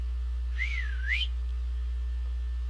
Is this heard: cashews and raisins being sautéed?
no